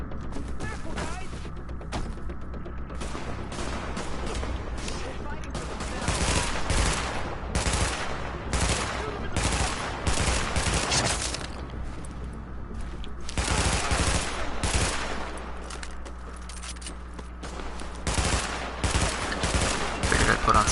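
Rapid bursts of automatic gunfire in The Division, loud and sustained firefights with repeated volleys and short pauses, continuing throughout with occasional mechanical clatter.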